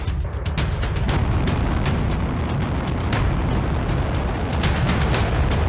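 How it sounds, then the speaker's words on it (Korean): A North Korean Chollima-1 rocket with four nozzles launches at night, a continuous loud thunderous roar with crackling, rumbling bursts throughout, heard from a distance without speech. "지금 발사할 때 보면 노즐이 4개에서 화염이 솟구치죠"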